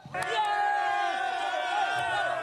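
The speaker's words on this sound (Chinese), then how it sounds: "现场传出欢呼声" Spectators at an under-17 boys' world volleyball championship bronze-medal match in Bulgaria roar together after a decisive spike, a loud sustained crowd cheer with shouting voices.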